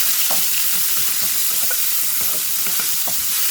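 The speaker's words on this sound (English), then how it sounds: "Fry the onions till they become soft." Chopped onions frying in a pot with black cardamom and a bay leaf, a steady loud sizzle with soft scraping stirs recurring at irregular intervals, no talking.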